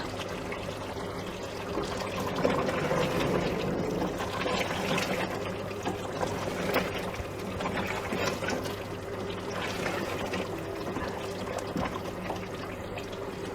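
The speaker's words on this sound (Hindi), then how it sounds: "इसमें अब हम ये 1 गिलास पानी डालेंगे और इसे 20 मिनट के लिए प्रेशर पे रखेंगे।" A glass of water is poured into a pressure cooker of spiced mutton biryani, giving a steady splashing, trickling flow that runs for several seconds at close range, with a low background hum beneath it.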